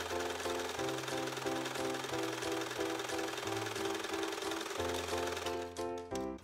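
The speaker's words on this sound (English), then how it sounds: "So I'm gonna go ahead, just sew these together so that I have one long 60 inch strip" A sewing machine stitches fabric strips into one long 60-inch strip, running in a fast, steady mechanical whir with rhythmic needle clatter, pausing briefly and restarting, loud and close with no talk.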